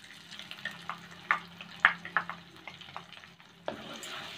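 Tomato puree sizzles in a hot pan of oil as it is poured in and stirred, with a series of scraping utensil strokes over a steady frying hiss.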